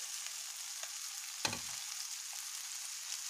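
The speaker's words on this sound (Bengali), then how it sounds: "চাউমিনটা ভালো মতন লড়াতে রাখলে ভাজা ভাজা করে নেব।" Chow mein noodles fry and get stirred in a pan, with a steady soft sizzle and one louder scrape or clatter partway through.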